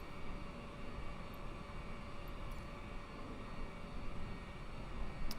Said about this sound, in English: Oh wow, it's just taxiing me right here.